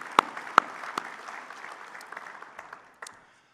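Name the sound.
audience applause for ethanol plant personnel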